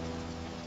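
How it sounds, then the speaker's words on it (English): Rain falls steadily in a calm children's animation, a soft, even patter over a very short stretch with no voices. "Mama, why is the sky wet? That's called rain."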